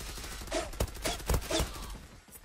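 Gunfire in the video game Zula: a handful of short, sharp shots spaced across a couple of seconds, moderately loud over a low background rumble.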